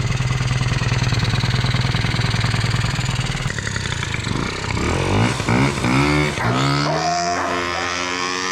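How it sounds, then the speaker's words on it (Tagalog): A Honda Dio 50cc two-stroke scooter engine idles with a steady buzzing putter, then the throttle is blipped a few times in quick, rising revs. "Goods yung makina guys, tahimik."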